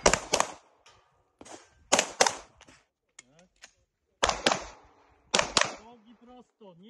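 A shooter fires during a shooting-on-the-move drill, with sharp, loud gunshots in quick pairs and short bursts separated by pauses, and a voice speaking briefly between the shots.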